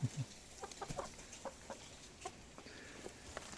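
A rooster newly placed among a flock of hens clucks in short, scattered bursts, fairly close by and with no one talking.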